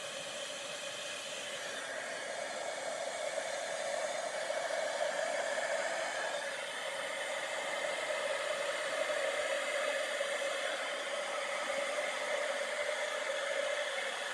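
A heat tool used to melt embossing powder blows with a steady, airy whir like a hair dryer, constant and unbroken from start to finish, with no talking.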